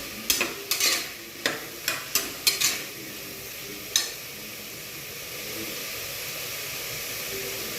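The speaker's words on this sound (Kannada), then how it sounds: "ಈ ಥರ ಚೆನ್ನಾಗಿ ಫಸ್ಟು ಎಣ್ಣೆ ಮತ್ತು ತುಪ್ಪದ ಒಗ್ಗರಣೆಯಲ್ಲಿ ಚೆನ್ನಾಗಿ ಫ್ರೈ ಮಾಡಿದರೆ" Mixed vegetables frying in oil and ghee for pulao, a steady close sizzle with a quick run of sharp spoon-against-pan scrapes early on, then the sizzle alone.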